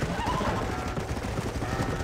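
Horses neigh in panic during a bear attack in Red Dead Redemption, a short burst of whinnying mixed with dense, noisy scuffling and rattling sounds.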